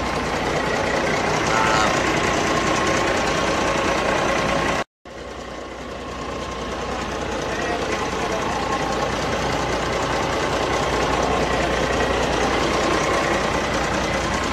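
Boat engine running steadily before a fishing trip, a constant loud drone with a brief cut near five seconds, while people talk over it.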